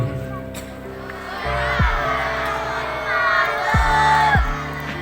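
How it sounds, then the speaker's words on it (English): A crowd of children at a Christmas celebration shouting and cheering in swelling waves, close and lively, with voices and a few low thuds mixed into the noise. "I can see you cheering, happy, and joy on your face"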